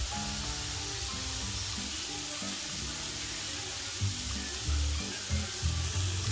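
Spring onions and green chillies sautéing in a pan for tawa paneer give a steady, moderately loud sizzle with soft stirring shuffles throughout, alone without talk.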